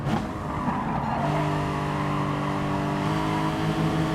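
A race car at Monza in Gran Turismo Sport peels off after Parabolica into the pits, its engine droning steadily with a sustained tonal whine and faint tyre noise, loud and continuous.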